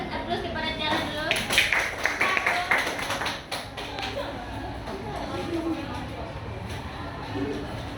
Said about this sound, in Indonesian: Saya berikan aplaus kepada Tiara dulu.